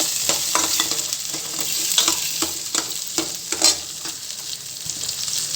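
Shallots, green chili and garlic sautéing in a pan for a greens recipe give a steady close sizzle, broken by repeated scraping stirs of a spoon against the pan, with no talking.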